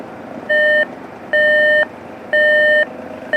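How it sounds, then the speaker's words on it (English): An RCA RP3710A clock radio alarm beeps in three evenly spaced bursts of rapid electronic tones, each about a third to half a second long, loud over a faint background hiss. "Okay, so there's your alarm."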